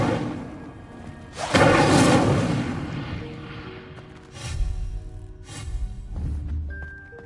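An Incendio fire spell cast in Hogwarts Legacy, a loud whooshing flare of flame followed by deep thuds and booms, then softer rumbling bursts and a brief chiming tone.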